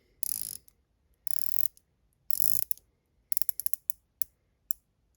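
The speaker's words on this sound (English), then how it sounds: "let's check the bezel. Very nice action." The bezel of a Proxima watch is turned in close-up, giving crisp ratcheting clicks. Three fast buzzing runs of clicks come first, then a handful of single, separate clicks. The sound is near and quiet, with no talk.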